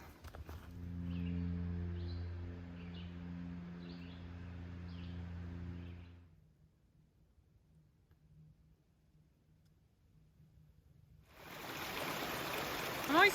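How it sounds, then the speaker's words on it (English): Hell Hollow Brook, a small stream on the Appalachian Trail in Vermont, flows with a soft, steady rush. A low droning tone sounds over it at first, then the water goes quiet and later swells louder. "this little stream is called Hell Hollow Brook"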